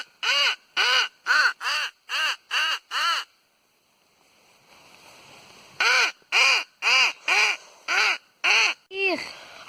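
Two sets of rapid, evenly spaced harsh caws from a Nordik crow call, loud and close, separated by a quiet pause with faint rain-like hiss, ending in a short squawk.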